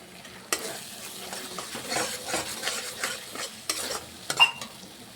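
Jackfruit and potato curry with spices is sautéed, the spoon scraping and stirring in quick repeated strokes over a low sizzle, fairly quiet and close, with a couple of sharper knocks.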